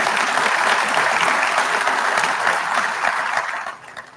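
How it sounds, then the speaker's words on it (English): A crowd at a police memorial tribute and awards ceremony gives sustained applause, a dense, even wash of clapping that stays strong for several seconds before tapering off near the end. "A little round of applause for them."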